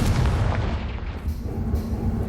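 A Confringo fire spell in the video game Hogwarts Legacy sets off a single loud, deep explosive boom that rumbles briefly and then fades.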